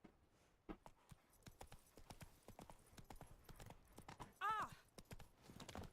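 Horse hooves clip-clop at a quick, steady trot in The Witcher 3, close and distinct, with a brief whinny partway through and a voice talking over the hoofbeats.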